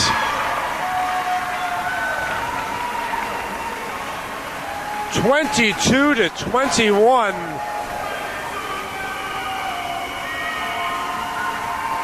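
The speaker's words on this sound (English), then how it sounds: "Crowd getting into it here at the Martinez Center." Volleyball crowd at the Martinez Center, Tampa against Barry, roaring and cheering in a steady wash of noise, with announcer talk rising briefly in the middle.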